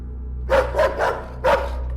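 A dog barks four times in quick succession inside a messy house, loud and close, with the barks coming in an uneven rhythm over a low steady hum and no speech.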